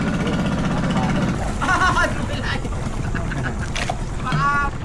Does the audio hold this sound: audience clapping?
no